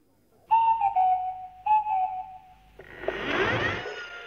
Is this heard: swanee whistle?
yes